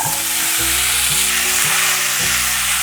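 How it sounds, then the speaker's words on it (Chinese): Potatoes and carrots stir-fry in a pan over medium-high heat, giving a steady loud sizzle that runs without a break, with faint stirring and soft background music underneath. "把马铃薯炒至半熟状态"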